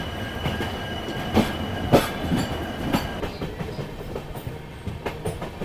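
A train runs along the rails on the line to Dudhsagar Waterfall, wheels clattering in a steady clickety-clack with sharper knocks and faint squeals, heard loud and close from aboard.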